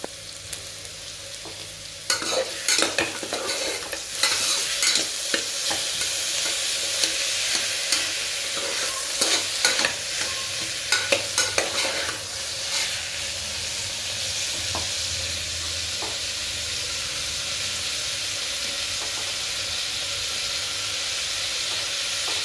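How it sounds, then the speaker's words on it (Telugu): Tomatoes frying in a pan for vegetable khichdi, a steady loud sizzle and hiss with scraping stirs clustered early on, then a continuous even crackle. "ఇలా ఫ్రై అయిన దాంట్లో టమాటీస్ వేసుకోవాలి. అవి కూడా శుభ్రంగా ఫ్రై చేసుకోవాలి"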